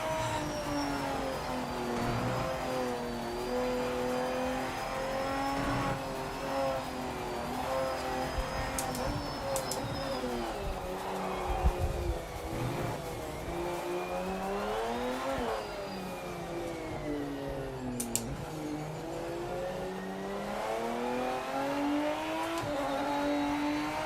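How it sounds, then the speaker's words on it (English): A race car engine in Project Motor Racing, revving and shifting through gears with rising and falling pitch, steady and fairly close, with brief tire squeals; no talking. "This car sounds pretty good."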